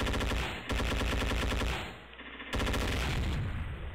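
Machine gun fire in the game Endless War 3, a dense, loud, steady stream of rapid automatic shots that cuts out briefly near two seconds before resuming at full intensity.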